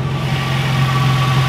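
Steady idle of an original car engine fitted with a mild remap and an aftermarket exhaust, a constant low hum with a faint whine above it, close and unbroken, with no voices.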